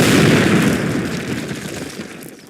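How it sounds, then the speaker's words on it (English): A loud explosive blast in Call of Duty (2003) blows apart a cinder block wall, a heavy boom at the start that rumbles and decays over a couple of seconds, with no talking. "Place your explosives on the cinder block wall."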